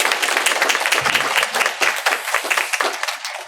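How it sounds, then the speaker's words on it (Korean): A church congregation applauds during a Sunday worship service, with steady dense clapping from a large group filling the room throughout. "박수로 한번 격려하겠습니다."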